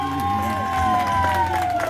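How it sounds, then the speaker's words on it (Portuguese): A crowd at a tribute gathering in Zona Leste, São Paulo, cheers and shouts for Porcina, a steady, lively burst of voices lasting a couple of seconds with only faint clapping. "Uma salva de palmas pra Porcina!"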